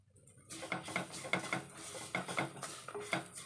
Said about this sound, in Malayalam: നന്നായിട്ട് മണം വരുന്നിടം വരെ നമുക്ക് ഇളക്കി കൊടുക്കാം